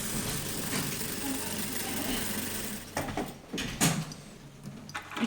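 A sewing machine runs a steady basting stitch along a hidden zipper for a few seconds, then stops, leaving a few soft clicks and handling sounds close by.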